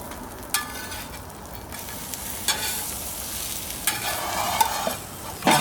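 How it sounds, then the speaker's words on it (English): Turkey quesatacos sizzle in a pan after being flipped, a steady close frying hiss broken by a few sharp spatula scrapes and taps. "let's flip these over."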